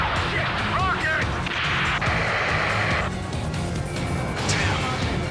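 Rocket explosions in the Ace Combat 7: Skies Unknown combat game: heavy booming blasts and crashing bursts over constant loud battle roar, with brief radio-style voices mixed in.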